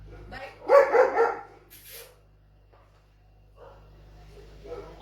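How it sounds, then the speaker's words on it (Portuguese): A dog lets out a loud burst of barks at close range, followed by fainter yips and rustling. "o cachorro tá bravo."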